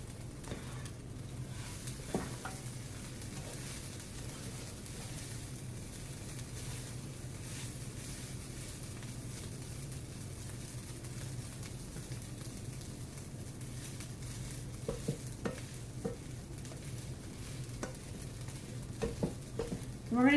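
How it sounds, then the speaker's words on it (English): Chinese fried rice sits in a hot pan, giving a quiet, even sizzle throughout with a few soft scrapes and taps of stirring near the end. "You want to let it cook for about 30 seconds or so in between stirrings."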